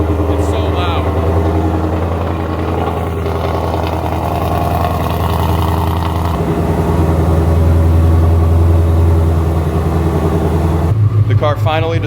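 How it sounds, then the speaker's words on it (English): A loud, deep 2024 Mustang GT engine with a Whipple supercharger rumbles steadily at close range after a warm start, with a sharp revving burst near the end; the engine keeps running throughout. "give you a start up. This is a warm start, but it's still extremely loud"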